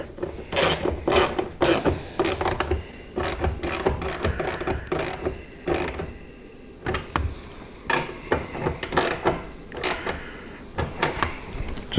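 A hand ratchet clicks in quick bursts while tightening bolts on an Advanblack adjustable rider backrest, close and crisp with short pauses between strokes.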